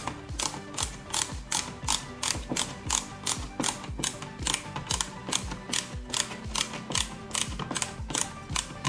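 A screwdriver driving a screw while an LED dimmer switch is fitted into a wall box, a fast even series of close ratcheting clicks repeating roughly twice a second, alone without talk.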